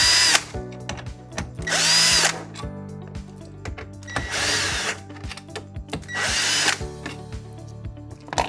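A power drill unscrews the bolts holding the aftermarket stereo in a Jeep Wrangler dash, giving several short whirring bursts with clicks and handling noises in between, close and fairly loud.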